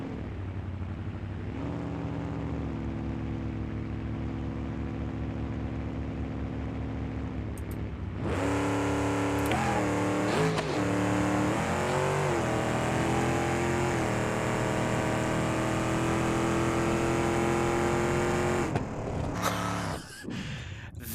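A drag car launching off the trans brake in BeamNG.drive, with a steady engine drone held for several seconds before a sudden loud revving surge that roars on, then cuts off near the end.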